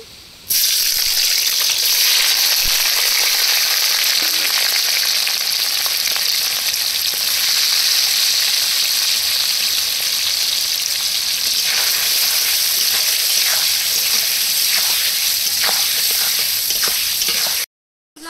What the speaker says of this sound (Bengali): এপাশে পনিরগুলো সব ভেজে নেব।